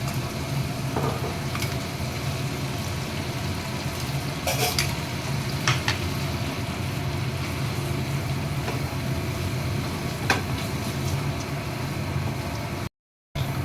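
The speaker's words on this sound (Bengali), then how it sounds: "বাটা মশলাটা দিয়ে দিচ্ছি" A ground spice paste hits a hot pan for paneer butter masala, bringing a steady sizzle and frying hiss broken by a few scrapes of stirring, close and continuous.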